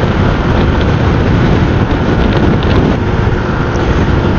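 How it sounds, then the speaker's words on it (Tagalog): Strong wind roars steadily across the microphone during a Honda Click 125i scooter ride along a highway, a loud, continuous, broadband buffeting rush with no pauses and no voices. "Malakas pati ang hangin dito sa highway"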